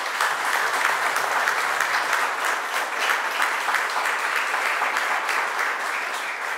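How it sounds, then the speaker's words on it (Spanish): Strong, steady applause from a large audience at a digital agenda brainstorming event in Panama, a dense continuous roar of many hands clapping at full volume from start to finish. "vamos a dar un fuerte aplauso para motivarnos"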